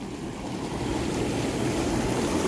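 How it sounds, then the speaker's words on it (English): Bubble jets blasting in a Bestway SaluSpa Miami inflatable hot tub make a loud, dense, steady roar of churning water and air, continuous and close with no talk. "And it blasts. I mean, it really blasts. The bubbles are a lot."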